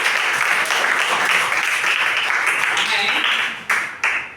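A classroom of students gives a round of applause for the best student, a dense, steady crowd of hand claps that carries on evenly and then breaks off in short final bursts near the end.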